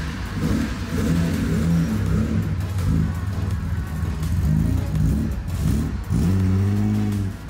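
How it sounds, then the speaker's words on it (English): A custom 1974 Datsun Fairlady 260Z with a stroked motor runs and revs, its engine note rising and falling in repeated surges, loud and close, with a final sharp rev near the end. "I want to fire this sucker up and go for a drive."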